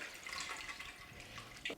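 Cooked pasta salad stirred around in an ice water bath, a soft continuous sloshing and swirling of water with small splashes, faint and close.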